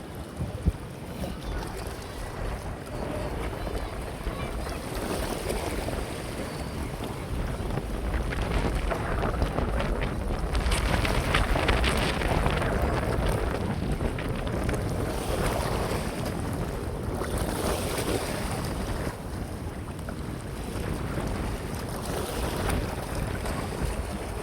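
Strong wind roars and buffets the microphone in continuous gusts while fishing, swelling and easing over a rushing, water-like background, with no voices.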